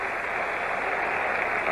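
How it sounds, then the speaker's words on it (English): Pittsburgh Steelers home crowd at a sellout 1977 football game against the Cowboys, cheering as the defense leaves the field: a broad, steady roar of distant stadium noise, continuous and fairly even for the short stretch. "the defense comes off to the acclaim of this Pittsburgh Steeler crowd"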